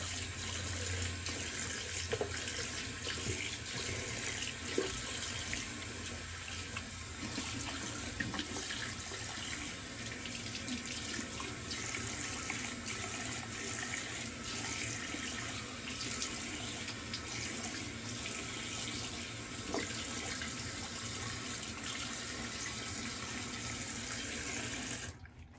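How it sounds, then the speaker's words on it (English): Cold water running steadily from a tap into a sink for rinsing after a wet shave, a continuous close splashing rush with no talk over it. "We'll rinse off here with some cold water"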